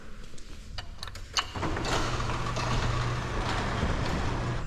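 A residential garage door rolls open with a steady mechanical rumble and hum, starting with a few clunks and then running continuously at moderate level, no talking.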